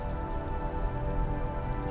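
Heavy storm rain pours steadily on the road to Tikal, a dense, even hiss of close rainfall with no voices and no breaks.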